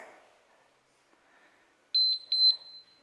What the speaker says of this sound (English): And there's that timer.